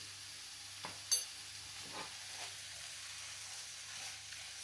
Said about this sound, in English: So giving that a good stir round.